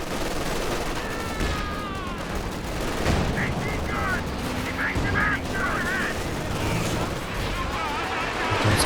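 Werfer rocket artillery launching in Company of Heroes 2 during a 2v2 match, rapid volleys of whooshing and booming blasts mixed with other gunfire and explosions, all under continuous excited commentary.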